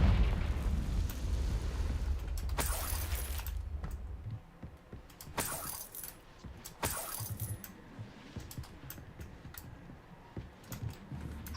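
Fire spell explosions in the Hogwarts video game burst out in several sharp, loud booms spaced a few seconds apart over a low rumbling background.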